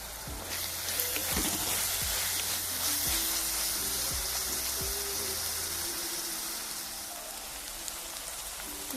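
Green chillies and curry leaves for a Kerala-style prawn roast crackle in hot oil, a loud dense sizzle that fills the whole stretch with faint clinks of a utensil at the start, with no talking.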